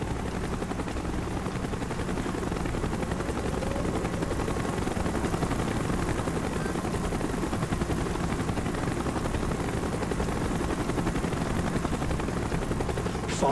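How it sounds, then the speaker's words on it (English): Helicopter rotor thump from the video game Call of Duty: Black Ops, a steady dense drone with rapid chopping pulses that holds at a constant loud level throughout, no voices over it. "Chopper's inbound."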